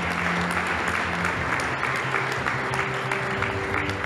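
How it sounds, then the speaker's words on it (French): An audience at an award ceremony for housing trophies applauds steadily, a dense, even wash of many hands clapping that holds throughout with a faint tone underneath. "Alors on l'applaudit très fort."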